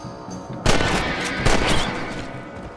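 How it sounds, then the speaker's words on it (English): Rifle gunshots while hunting rabbits in the video game Red Dead Redemption, two loud blasts about a second apart over a dense, rumbling ambient game background. "You're a good shot, Mr. Marston. That rabbit didn't stand a chance."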